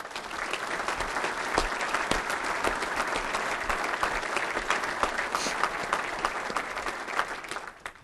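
Crowd applause at the Coast Guard's annual address, a sustained, even wash of many hands clapping that fades slightly at the end.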